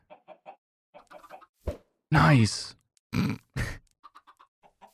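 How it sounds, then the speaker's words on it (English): Minecraft chickens in a hardcore survival world give short, clipped clucks and one louder squawking burst, scattered in quick bursts close by, with a brief spoken remark among them. "I think chickens are breedable again."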